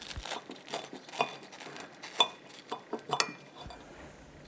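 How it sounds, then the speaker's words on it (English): A knife cuts through a grilled cheese sandwich on a plate, giving a series of sharp clinks and scrapes of metal against ceramic along with a crisp crunch of toasted bread, close and fairly quiet. "cut the sandwich diagonally from corner to corner"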